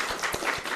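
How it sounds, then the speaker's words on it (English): A short burst of audience applause for missionaries who cooked food, steady clapping at moderate distance with no talk over it. "Can we give a round of applause to the missionaries for cooking food?"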